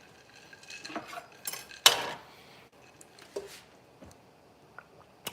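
A mixture being stirred, with close clinks and scrapes of a utensil against a bowl or dish in irregular bursts separated by quiet gaps.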